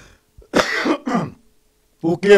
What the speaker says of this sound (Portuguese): Desculpe aí pela tosse, mas estou meio gripado